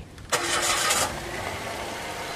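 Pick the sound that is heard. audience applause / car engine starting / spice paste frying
car engine starting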